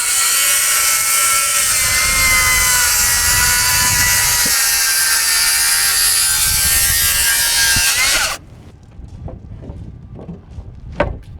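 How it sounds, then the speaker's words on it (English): A track saw rips through LP Novacore insulated sheathing during a house build, a loud, steady high whine for about eight seconds that cuts off abruptly, followed by a few faint knocks and clatters. "We got a track saw, it'll go like easy"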